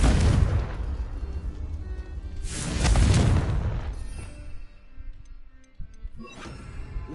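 Confringo spell blasts in Hogwarts Legacy erupt as two loud fiery bursts about two and a half seconds apart, each fading into a rumbling tail, with softer crackles afterward.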